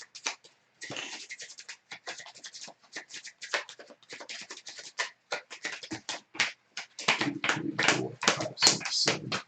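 A deck of cards for the Tramways board game being shuffled by hand, a close, dense run of rapid riffling flicks and taps with brief pauses between bursts, with no talking.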